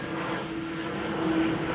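A Delta Airlines plane flying overhead under an overcast sky, a steady distant jet roar with a faint engine hum, no voices.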